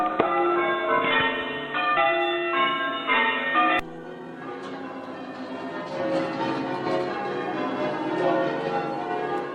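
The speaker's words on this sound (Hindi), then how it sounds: "इनकी ये घंटियाँ बजाना और इस तरीके से बजाना" Church bells ring out as a call to worship, struck one after another in a loud, reverberant peal that thickens into overlapping clangs after a few seconds.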